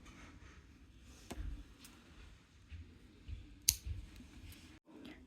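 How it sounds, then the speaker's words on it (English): Scissors snip through crochet thread in a quiet indoor setting, a couple of sharp, close clicks standing out over a soft low background hum. "And now I will cut the thread."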